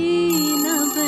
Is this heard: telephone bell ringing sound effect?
yes